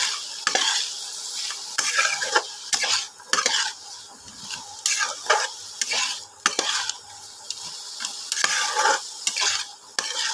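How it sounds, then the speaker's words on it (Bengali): Spices with coriander powder fry in a pan for samosa filling while a spoon stirs and scrapes repeatedly, giving a sizzle under irregular close metallic clinks and scrapes, with no talking. "এবার বন্ধুরা এটা ভাজা ভাজা করে নিয়ে তারপরে জল দেব"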